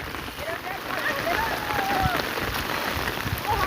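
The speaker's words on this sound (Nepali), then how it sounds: "पानी चाहिँ पक्का आएको है" Hail and rain fall on a roof in Khotang, Nepal, making a dense, continuous patter that swells in the middle, with a faint voice in the background.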